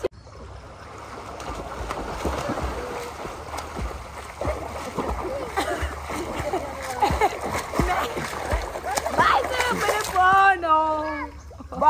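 Water splashes repeatedly and unevenly onto a phone outdoors, in a series of wet slaps and spatters close by, while people shout and laugh over it throughout.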